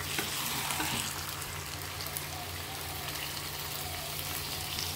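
Chicken and onions fry in a pan with a continuous, close sizzle and occasional stirring scrapes over a low steady hum.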